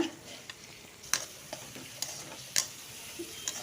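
Onions fry with ginger garlic paste in a pan for a mutton fry, a faint continuous sizzle punctuated by sharp spoon taps and stirring clicks at irregular intervals, close and quiet.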